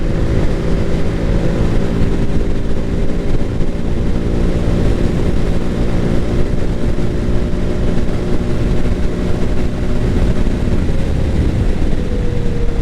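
Zontes Urban 125 scooter riding along a road, its engine holding a steady, continuous drone with wind rush throughout and a slight pitch shift near the end, with no talking.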